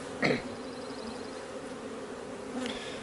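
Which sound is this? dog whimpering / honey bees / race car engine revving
honey bees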